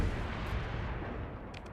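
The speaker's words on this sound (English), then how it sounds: "Look at those micro missiles go. Look at those antimatter missiles go." Micro missiles and antimatter missiles firing in a Starsector space battle, a dense continuous crackle of rapid pops and booms like distant fireworks, steady and loud throughout without speech.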